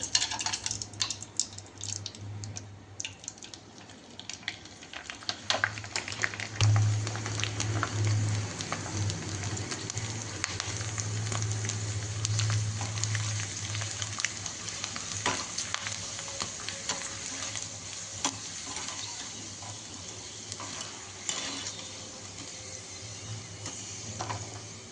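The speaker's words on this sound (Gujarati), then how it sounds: "આપણે સ્ટિક્સ તળી લઈશું." Sago dough sticks fry in hot oil over a medium flame, giving a continuous bubbling sizzle with fine crackles close by that fades a little toward the end, and no talking is heard.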